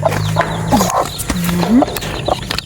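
Chick chirping close by amid the clucks of an adult chicken, a busy run of short peeps and calls with no speech.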